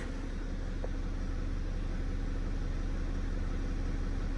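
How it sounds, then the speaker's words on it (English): A BMW 435d xDrive diesel idles steadily in the open, a constant low rumble with a faint even rhythmic throb and no other sounds. "We'll leave the engine running."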